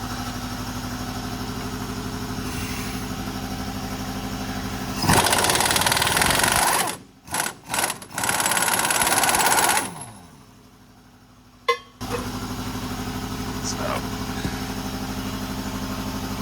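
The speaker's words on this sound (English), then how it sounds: "We're going to take that nut off and then try to get that whole bolt out." An air impact wrench loosens a 30 mm nut on the upper control arm bolt of a Ford F150 (2004–2008), with a loud sustained rattling burst broken by brief pauses, then a sudden stop and a quieter hum from a nearby motor.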